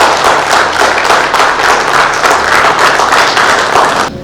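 Audience applause for a wellness-program team at an experts' talk, dense steady clapping from a crowd that holds for about four seconds before abruptly dropping off.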